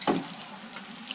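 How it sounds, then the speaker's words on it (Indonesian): Water splashes onto potted black cincau (grass jelly) plants growing in cocopeat, a close burst of pouring at the start that thins to a faint steady trickle with small drips. "jangan lupa disiram dulu aja"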